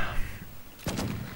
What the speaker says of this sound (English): Gwen, ready the rifle, I'll ready my pistol. Okay, Ron. Shoot him dead.